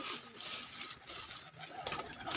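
Pigeons coo softly in the background, faint and slightly distant, over a low steady ambient hiss with no clear speech.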